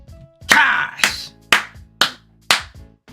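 A man claps his hands for himself: five sharp, close claps at a steady spacing of about half a second, loud and alone with no talking.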